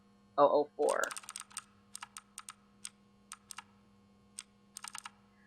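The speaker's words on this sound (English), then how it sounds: "typing fast comes in handy with games like this" Fast typing on a computer keyboard while playing a horror video game: a short vocal burst opens, then quick runs of crisp keystroke clicks come in uneven clusters, close and distinct.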